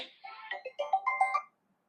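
A phone ringtone plays a bright electronic melody of short chiming notes for about a second and a half, then stops, with no voices over it.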